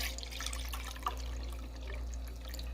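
Water running steadily from a kitchen tap to rinse a measuring cup, a constant close splashing stream with a small clink partway through.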